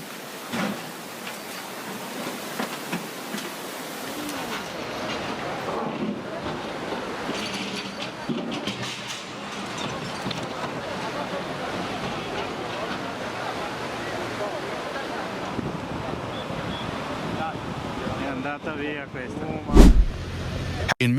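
Raging floodwater current sweeping boats into a low bridge, a loud, continuous roar of rushing water with a sharp crashing impact near the end.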